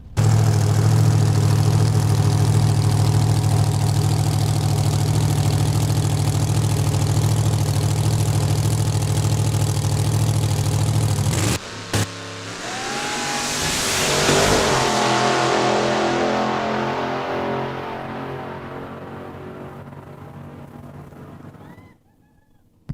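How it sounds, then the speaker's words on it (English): A supercharged drag racing car at Saskatchewan International Raceway idles with a loud, deep, steady rumble, then launches and roars off down the strip, its engine note sweeping upward and fading into the distance. "Dwayne Trelevin ready to make a second pass of the day here"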